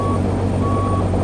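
A Kenworth T600 truck's reversing alarm sounds steady, evenly spaced beeps over a loud, constant diesel engine rumble, close by with no talk.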